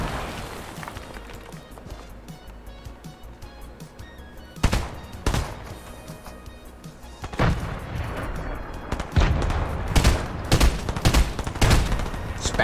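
Rapid gunfire in a Fortnite match, with bursts of shots and sharp cracks over continuous game noise, growing denser and louder in the second half.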